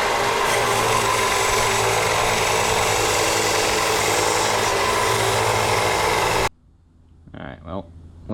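A belt grinder runs loud and steady for about six seconds, grinding homemade camo micarta with a worn belt, a dense broadband roar that cuts off abruptly and is followed by a quiet stretch with a brief voice.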